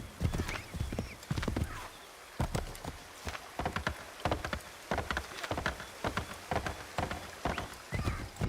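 Horse hooves clip-clop in a steady, close rhythm in Assassin's Creed 3, mixed with a rain-like patter and an occasional whinny, with no talk.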